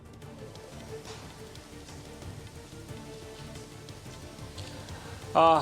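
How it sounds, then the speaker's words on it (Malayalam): Steady, dense monsoon rain hisses and patters on surfaces throughout in Kerala, a continuous wash of drops with a brief louder sound at the very end. "നല്ല ശക്തമായ മഴ തന്നെയാണ് ഉണ്ടായത്"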